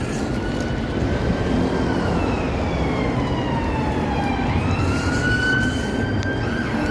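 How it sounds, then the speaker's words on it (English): Emergency vehicle sirens wail in the distance over a steady roar of cold outdoor ambience, their rising and falling tones overlapping and sweeping through the whole stretch. "more fucking sirens"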